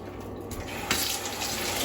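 Tap water runs steadily into a sink during hand washing in a kitchen, a continuous close hiss with no voices.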